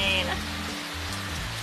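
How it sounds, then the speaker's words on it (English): Steady rain falls on an evening in Jamaica, a continuous close hiss of drops with a low hum underneath and no break. "And it's raining."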